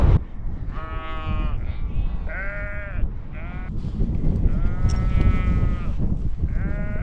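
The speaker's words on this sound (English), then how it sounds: "I didn't expect this many sheep to be here." A flock of sheep on a hill fort bleats close by, several overlapping wavering calls following one another almost without pause over a steady outdoor background.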